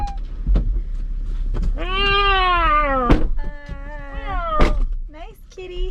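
A domestic cat meows repeatedly up close, with long drawn-out rising and falling cries and a few shorter calls, interrupted by soft thumps and some background speech.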